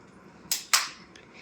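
Two sharp cracks from a toy cap gun go off close by in quick succession, then a faint tick and quiet.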